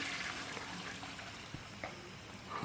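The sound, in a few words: toilet flushing in a video game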